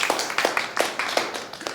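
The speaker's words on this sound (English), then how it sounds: "round of applause for his question" A small audience at a body language show applauds a question with a thin patter of claps, several sharp distinct hand strikes standing out over a softer background of clapping.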